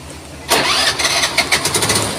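A scooty scooter that had stalled starts on its electric self-start, a sudden loud catch of the engine followed by an uneven, pulsing idle close by.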